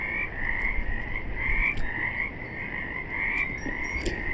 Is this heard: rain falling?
no